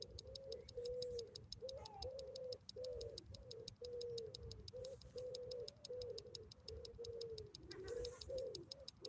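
Pigeons and doves coo in a steady repeating rhythm at a graveyard, moderately close and fairly quiet, with a faint regular clicking ticking behind them and no voices.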